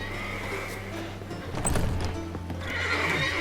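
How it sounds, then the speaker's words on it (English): Horses neigh and whinny with clip-clop hooves in a stable scene from The Witcher 3, several close, loud cries rising over a low steady hum, with a busier burst midway. "Gotta calm all the horses before they wake the guards."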